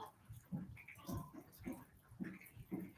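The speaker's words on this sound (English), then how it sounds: "My kiddo's trying to control my chihuahuas," Small chihuahua dogs whimper and yip in short, faint bursts, about five soft vocalizations in quick succession with low background noise.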